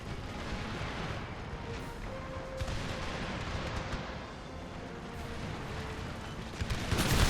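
Artillery in Empire: Total War pounds a castle, a steady rumbling barrage of cannon fire with scattered sharper reports, densest and loudest toward the end.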